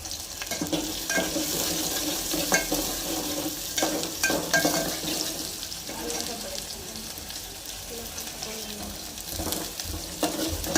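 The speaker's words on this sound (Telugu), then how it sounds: "ఆనియన్ వేసుకొని ఇలా బాగా కలుపుకోవాలి." Onions frying in hot oil for a masala dal, a dense continuous sizzle with repeated scraping and stirring strokes of a spoon in the pan, close and steady.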